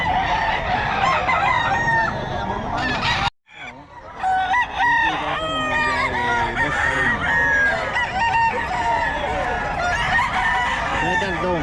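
A solid black Henny gamefowl rooster crows loudly and close, with clucking and other fowl calls around it, a brief gap partway through, and voices faintly in the background.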